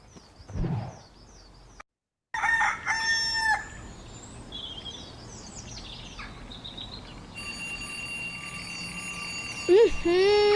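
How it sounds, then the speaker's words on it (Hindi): An alarm clock set for quarter to seven goes off in a home on a school morning. Bright repeating electronic tones ring out in bursts, then settle into a sustained, insistent ringing near the end, with no talking. "ये पौने 7 का अलार्म किसने लगा दिया इसमें?"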